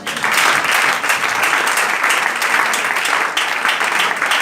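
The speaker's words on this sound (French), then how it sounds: "Est-ce que tu peux acclamer le Seigneur?" A church congregation claps and cheers for the Lord, loud, dense, continuous applause filling the hall throughout.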